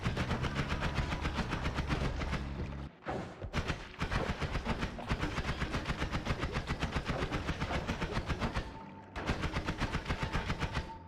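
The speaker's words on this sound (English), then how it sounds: "They're running up to me and exploding." In Noita, enemies rush in and blow up in a loud, almost unbroken stream of crackling bursts and rapid gunfire-like pops, dropping out briefly twice before the barrage resumes.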